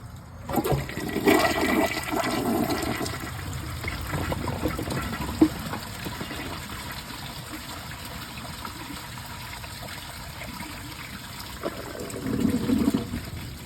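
A Glacier Bay high-efficiency dual-flush toilet flushes with a loud rush of water, settling into a long, steady trickle as the tank refills, with a brief surge near the end.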